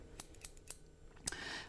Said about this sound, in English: Now, we've got some scissors. Long, thin and very sharp.